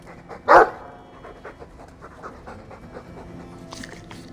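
A Mabari war dog in Dragon Age 2 pants softly and steadily, with one sharper huff near the start.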